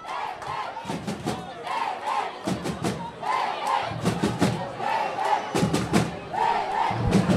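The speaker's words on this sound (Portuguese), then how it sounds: "Olha aí a torcida gritando o nome do Lelê" A football stadium crowd at a Campeonato Maranhense 2024 match between Chapadinha and Imperatriz chants a player's name in loud, rhythmic surges. The chant repeats roughly every second or two, distant and echoing, and carries through the whole stretch.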